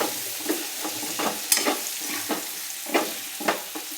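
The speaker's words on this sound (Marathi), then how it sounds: "लाल तिखट ते टाकल्यानंतर शेंगा छान परतून घ्यायच्या आपल्याला" Drumstick pods tossed with red chili powder in a pan hiss and sizzle softly while a spoon scrapes and stirs them in irregular strokes every half second or so.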